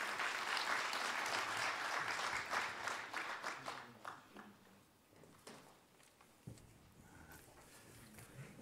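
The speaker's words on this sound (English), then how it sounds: "Kindly give an applause as we welcome him up to make the opening remarks" At a conference opening session, an audience applauds to welcome a speaker to the stage, a dense, full round of clapping that thins out and fades to scattered claps and quiet room noise.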